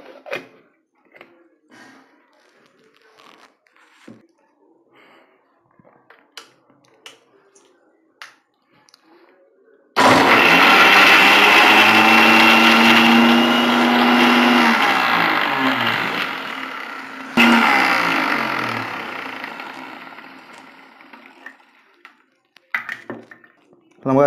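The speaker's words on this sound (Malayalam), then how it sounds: "ഇതൊക്കെ ചേർത്ത് നമുക്കൊന്ന് ആദ്യം ഒന്ന് അരച്ചെടുക്കാം" Electric mixer grinding coconut chutney ingredients for Kerala-style thenga chammanthi, a loud whirring roar starting abruptly, running about seven seconds, pausing briefly, then whirring again and winding down, with quiet talk and kitchen clinks before and after.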